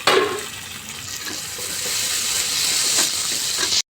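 Tomato pieces and green chillies frying and being stirred in a hot pan, a steady close sizzle and hiss with a few scraping stirs, continuous for a few seconds before cutting off abruptly.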